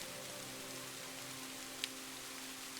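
Rain falling steadily against a window on a night, a soft continuous patter with one brief brighter tick, faint and close, no voices.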